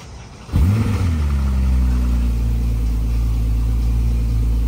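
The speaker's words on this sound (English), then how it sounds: "Quick startup of Larry's Turbo S." A Porsche Turbo S sports car with a roll cage fires up after a brief quiet moment, a starter whir and loud rev settling into a steady, deep, close idle.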